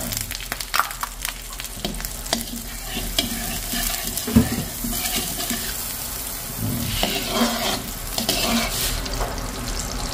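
Butter sizzles and crackles in a hot frying pan, a steady close hiss with scraping and stirring clatter throughout, plus one sharper clank midway.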